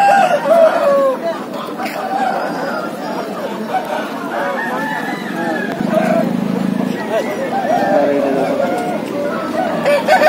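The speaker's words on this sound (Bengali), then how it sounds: "খুব ভালো কোয়ালিটির মুরগি একটা দেখতে পাচ্ছি" Chickens at a busy rural poultry market, with clucks and a rooster crowing amid a dense crowd murmur, under continuous talk from a nearby man.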